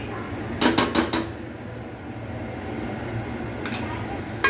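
Chopped tomato stirred into masala in a pan with a spoon, giving a few quick scraping clinks near the start, then a steady low frying hiss and another brief scrape near the end.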